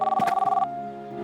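A cartoon telephone rings with a rapid, buzzy electronic trill that pulses quickly, then breaks off into a lingering sustained tone fading out.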